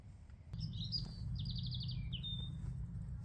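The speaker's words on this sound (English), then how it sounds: "Bird song." Small bird chirping and trilling in a quick run of high tweets outside a tent at a winter stealth camp, clear over a steady low rumble of wind or distant traffic.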